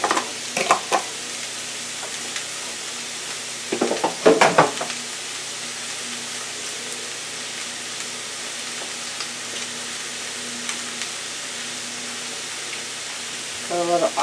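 Onions and peppers frying in a pan, a steady soft sizzle throughout with a few clattering stirs and scrapes near the start and end.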